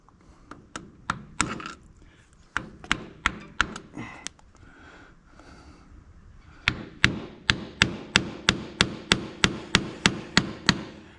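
A hammer strikes a siliconed-on water pump on a UTV repeatedly at close range, in irregular bursts at first, then a fast, steady run of sharp blows.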